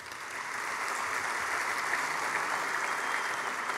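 Steady applause from a crowd at a high school sports awards ceremony, a dense wash of clapping that holds at an even level throughout.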